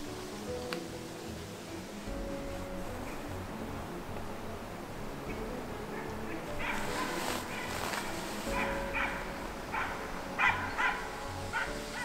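Hunting dogs on a deer drive hunt barking in a forest, scattered yips and barks at a distance over a busy rustling background, growing more frequent toward the end.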